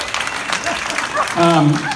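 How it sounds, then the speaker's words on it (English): Wedding guests break into applause during a best man speech, a soft wash of clapping that swells toward the end while voices continue over it. "Round of applause."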